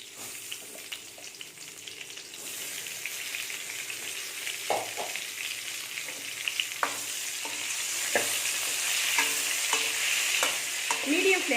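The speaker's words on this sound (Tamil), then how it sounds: "அதில் கட் பண்ணி வச்சுருக்கிற இந்த கத்திரிக்காயெல்லாம் இதில் போட்டு லேசாக வதக்கி எடுத்துக்கலாம்" Cut eggplant sautés in sesame oil in a pan over medium flame, a soft continuous sizzle with occasional knocks and scrapes of a spoon stirring.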